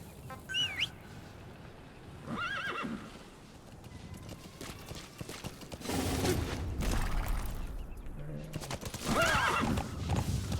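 A horse whinnies several times amid hoofbeats and clattering mechanical noises in Metal Gear Solid V: The Phantom Pain, with bursts of rumbling activity in between.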